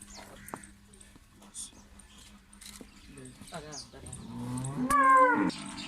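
A Friesian cross cow for sale in Pakistan lets out a low moo that builds toward the end, close by, over a quiet background with faint animal noises and a murmured voice.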